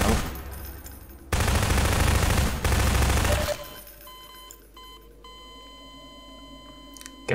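Loud bursts of rapid automatic gunfire in the Half-Life 2 video game, two dense volleys over a couple of seconds, followed by quieter electronic beeps and mechanical tones.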